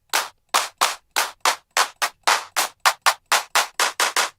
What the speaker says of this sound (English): I actually really like the claps in this one.